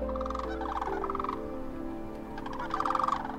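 Sandhill cranes call during spring migration, rolling, rattling bugles from a flock at middle distance, several overlapping calls coming in bursts over a steady low background rumble.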